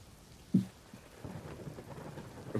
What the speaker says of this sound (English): Rain is just covering you.